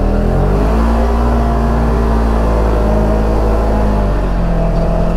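A 2022 Polaris General XP4 Deluxe Ride Command side-by-side driving a trail, its engine droning loud and close in a steady, even hum with slight pitch shifts and no talking.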